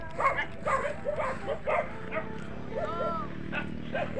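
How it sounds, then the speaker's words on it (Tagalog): Many dogs bark at an outdoor kite-flying spot, with several scattered yips and barks coming from mid-distance over steady wind and background noise. "Mga idol, ang daming aso."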